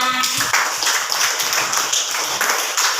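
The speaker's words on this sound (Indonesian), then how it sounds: "terima kasih buat Leo tepuk tangannya" Clapping in a classroom lesson, a cluster of hand claps of uneven rhythm, close and fairly loud, with some voices mixed in at the start.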